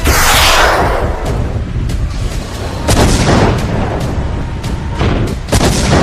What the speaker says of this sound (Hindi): क्राइमिया से पुतिन आर्मी स्कंदर मिसाइलों को अंधाधुंध दाग रही है।